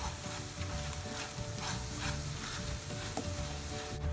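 Dried dates are stirred with jaggery and ghee in a pan, a steady close sizzle with scraping stirring strokes throughout and no talking.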